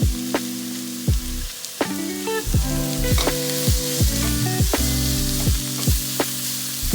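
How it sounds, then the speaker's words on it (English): Thinly sliced mushrooms frying in a pan for phad thai, with steady sizzling under repeated tonal music-like stirring strikes, loud and close throughout with no talking. "So without wasting much time, I'll be adding mushrooms quickly."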